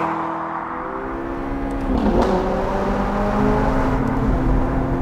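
A McLaren 675LT MSO Carbon Series engine revs loudly from inside the car, its pitch sweeping down and then climbing again, with a sharp exhaust crack partway through.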